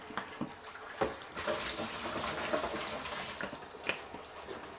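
Water runs steadily from a tap for washing milking equipment, a continuous hiss with occasional knocks and splashes, fairly quiet and without talk.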